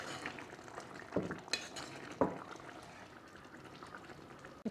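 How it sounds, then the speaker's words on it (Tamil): A spoon stirs sautéed brinjal into a drumstick curry in a pot, with a few sharp clinks of metal against the pot over a soft simmering background and no speech. "நம்ம வதக்கி வச்சுருக்க கத்திரிக்காய் சேர்த்துப்போம்."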